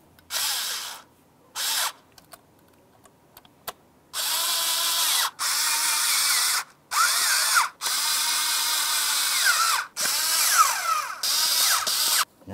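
Power tool spinning bolts down one at a time on the oil filter housing and cooler of a 2006–2018 Jeep Wrangler JK, loud whirring bursts separated by short pauses and brief ratchet clicks, with no talking.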